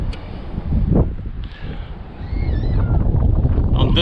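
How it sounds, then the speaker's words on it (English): Coastal wind gusting beside Ponce Inlet Lighthouse in Florida, buffeting close against the microphone as a loud, rumbling rush that rises and falls, with faint higher sounds drifting in behind it. "On this side of the lighthouse, it's windy, windy, windy"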